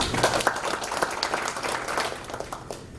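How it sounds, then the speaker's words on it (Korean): A short burst of applause from an audience at a lecture, many hands clapping together at moderate volume before fading slightly. "박수 한번 해주십니다"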